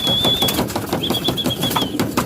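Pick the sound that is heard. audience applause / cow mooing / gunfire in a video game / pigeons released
pigeons released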